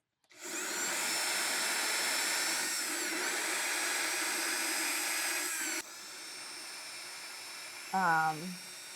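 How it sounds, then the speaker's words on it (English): A high-pitched electric drill whirs steadily for several seconds on a short length of cast metal machine part, then winds down; a brief vocal sound follows near the end. "I just use the drill because it's such a short length."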